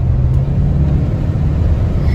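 A 1986 Chevy Custom Deluxe 4x4 truck engine revs hard under heavy throttle, a loud, steady low rumble with a dense engine drone heard from inside the cab throughout, with no talk.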